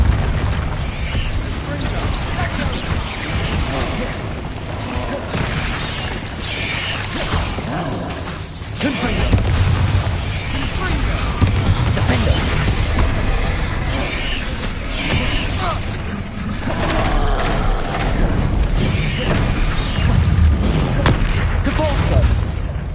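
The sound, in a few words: Bombarda spell explosions in the video game Hogwarts Legacy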